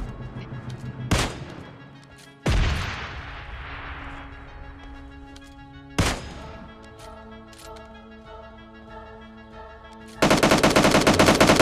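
Gunfire in the mobile game PUBG Mobile Lite: several sharp, loud shots and bursts spread through the stretch, with a dense, sustained blast of firing near the end and no talk.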